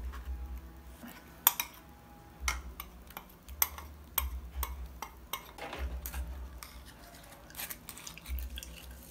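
Grated potato being strained in a kitchen, with scattered small clinks and taps of utensils against a bowl or strainer, close and fairly quiet with a low steady hum underneath.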